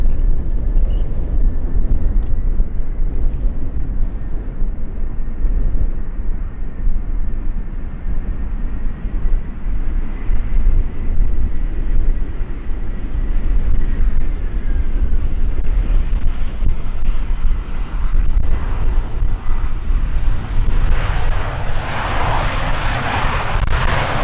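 Air Malta airliner landing in a crosswind on runway 18R at Schiphol Airport, a steady loud jet engine roar under heavy wind buffeting on the microphone, building toward the end as the plane nears.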